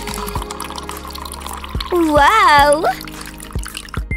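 Water pours and trickles into a Barbie doll's toy bath, splashing close by while an excited voice exclaims over it.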